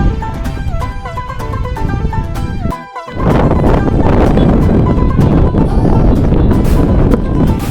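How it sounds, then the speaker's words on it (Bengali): Strong wind sweeps across a large sandy field beside a river, buffeting the microphone with a loud, rushing roar that grows heavier after a short lull in the middle. "অনেক বাতাস"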